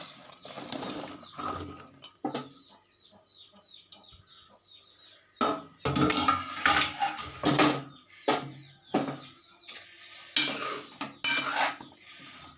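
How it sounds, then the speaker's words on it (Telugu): Chopped onion, green chili, drumstick and tomato tipped into a pot of sambar and stirred, with intermittent scraping and clattering of a spoon against the pan, loud bursts separated by quieter stretches. "ఉల్లిపాయ పచ్చిమిరకాయ ములక్కాయ టమాటా ఈ ఐటమ్స్ వేస్తున్నాను అనమాట"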